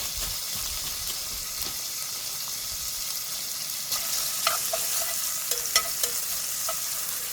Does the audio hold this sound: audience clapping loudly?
no